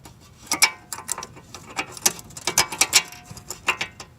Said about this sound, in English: We got to torque all the bolts down.